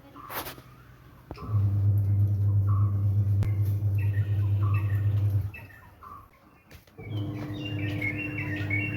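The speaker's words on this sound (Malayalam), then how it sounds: "കേൾക്കുന്ന കിളികളുടെ സൗണ്ടൊന്നും വോയിസ് എഫക്റ്റ് അല്ല കേട്ടോ" Several birds chirp and tweet in short calls around a rural house, over a steady low hum, with bright repeated whistles growing busier toward the end.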